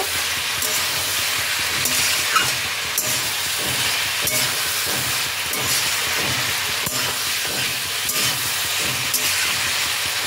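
Fried eggplant, bori and slit green chillies stirred into a mixed vegetable curry in a pan, heard as a steady loud sizzle and hiss with intermittent scraping strokes of the spoon throughout.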